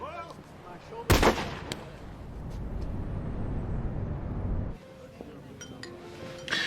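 A gun fired during clay target shooting outdoors, a single sharp loud report followed by a long rumbling echo that fades after a few seconds, with faint background sounds before and after.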